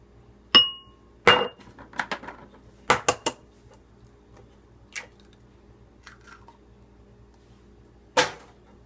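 Raw eggs cracked one at a time into a cup in a home kitchen, a few sharp shell taps and clinks spaced over several seconds, close and distinct in a quiet room.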